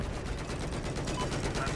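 Rapid gunfire from a Battlefield video game battle, dense and continuous bursts running throughout at steady loudness, with voices talking over it.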